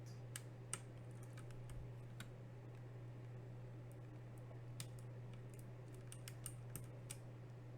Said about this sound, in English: Let's use the keycap puller to take this out.